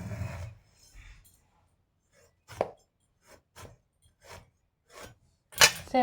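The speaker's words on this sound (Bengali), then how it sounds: "এবার এটাকে পিস পিস করে টুকরো করে কেটে নিচ্ছি দেখুন" A knife chops peeled ridge gourd into medium pieces on a board for a prawn, ridge gourd and potato curry, giving about seven quiet, separate thuds spaced unevenly, close by and with no talking.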